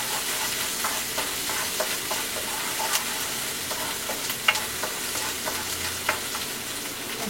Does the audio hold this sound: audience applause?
no